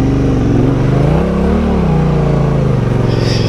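A motorcycle engine revs steadily while riding through mud, a loud, close, sustained drone that rises and dips slightly in pitch with no talking.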